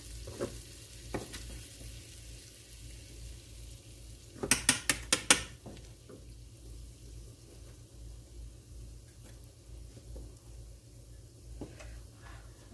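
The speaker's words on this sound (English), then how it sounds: "we're gonna cook the flour" Flour cooking in sausage fat over low heat for gravy gives a quiet, faint sizzle with occasional scrapes and one short burst of sharp metallic clicks against the pan, and no talk.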